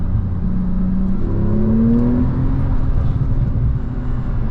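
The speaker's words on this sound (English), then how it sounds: "Love the little burble. The exhaust's not so loud." A 2016 Porsche 911 Turbo drives along with a loud, steady, low engine rumble heard from inside. Its pitch rises gently as it accelerates, and a soft exhaust burble sits under the drone.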